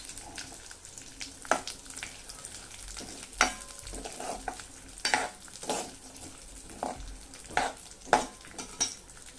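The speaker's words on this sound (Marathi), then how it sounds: "तूप चांगलं गरम झाल्यावर आपण त्याच्यामध्ये जे हे मिक्स ड्रायफ्रूट आहे, काजू, बदाम आणि पिस्ता, ते गोल्डन होईपर्यंत थोडे परतून घेऊया." Cashews, almonds and pistachios roast in hot ghee, a soft, even sizzle under frequent close clinks and scrapes of a spoon stirring the pan.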